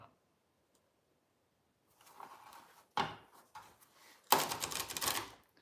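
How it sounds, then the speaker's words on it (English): A pack of tarot cards being shuffled by hand, close up, with quiet rustling building into two louder riffling bursts of crisp card flutter after a near-silent start. "So I'm shuffling the pack, Amanda."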